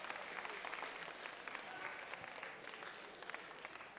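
Faint, steady clapping from an audience in a chapel, a soft continuous patter of many hands heard at a distance.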